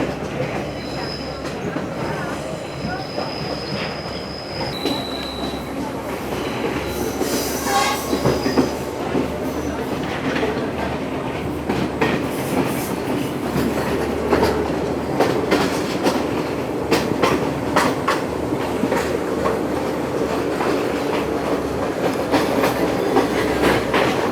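Aboard the Ella Odyssey passenger train in Sri Lanka, a continuous loud rumble of carriages on rails carries repeated clickety-clack from the wheels and thin metallic squeals, sustained throughout with no clear talk.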